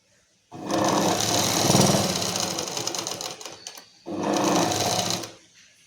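A sewing machine stitches pleats and lining on a garment in two close, loud bursts of rapid needle clatter. The longer run comes first, then a brief pause, then a shorter run before it stops.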